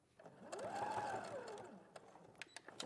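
A sewing machine back stitches to lock a seam during a sewing demonstration, its motor whirring up and down in pitch for about a second, followed by a few softer clicks and clacks, close and alone with no talk.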